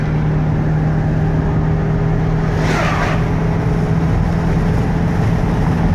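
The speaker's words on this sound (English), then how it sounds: "So we're driving down the road." A 2010 3/4-ton 2500 Express cargo van drives down the road with a loud, steady engine drone and road rumble, and a brief swell partway through.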